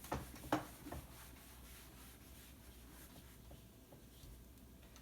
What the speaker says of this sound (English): Let me erase real quick.